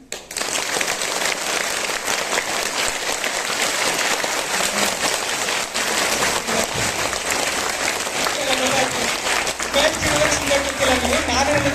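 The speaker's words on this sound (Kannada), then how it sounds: "ಒಂದ್ಸಲ ಜೋರಾಗಿ ಚಪ್ಪಾಳೆ ತಟ್ಟಿ." An indoor seminar audience breaks into loud, sustained applause, a dense wash of many hands clapping that continues steadily for the whole stretch, with a voice coming through faintly toward the end.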